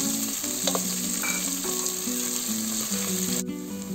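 Onions with green chillies frying in a pan for spinach dal give a strong, steady close sizzle with light stirring scrapes throughout, no talking over it.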